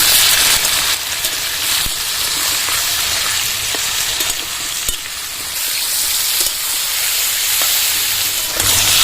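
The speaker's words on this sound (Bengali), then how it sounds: "কোয়াশ আর আলুটা ভালো করে ভেজে নেব আমি হাত মতো লবণ দিয়ে দেবো এবার ভালো করে ভেজে নেবো" Squash and potato pieces fry in an oil-filled pan, giving a loud, continuous close sizzle with occasional stirring scrapes, and no one speaks.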